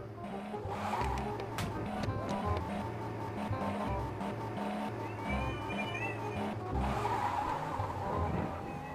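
In the mobile game Car Parking Multiplayer, a Toyota Camry accelerates with a steady, droning engine that rises through gear changes, with tires squealing and skidding over it.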